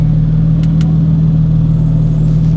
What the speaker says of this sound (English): he got a Valvetronic exhaust, and this thing sounds beautiful now